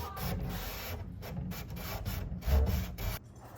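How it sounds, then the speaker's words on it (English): Wood on a vintage Art Deco English bar cabinet with tiger oak is hand-sanded with a contour sanding kit, giving close, rhythmic rubbing strokes in short bursts with brief pauses between them. "I will use this contour sanding kit to get any nooks and crannies or anything like that"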